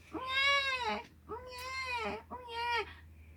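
A voice imitates a baby crying in a told children's story, with three drawn-out wailing cries close to the listener, each rising and then breaking off, separated by short gaps.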